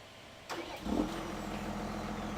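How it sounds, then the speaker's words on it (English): A modded John Deere tractor engine in Farming Simulator 17 cranks briefly, catches and settles into a steady mid-pitched idle, heard alone and fairly quiet. "I got a John Deere mod in here"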